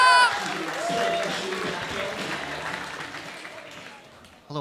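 A comedy club audience in Manchester claps and cheers after a countdown to welcome a comedian on stage, steady applause fading over several seconds before a voice comes in at the end.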